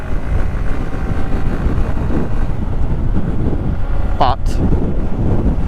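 Strong wind buffets the microphone while riding a 2023 Honda motorcycle, a loud constant low roar throughout, with a brief faint word spoken under it.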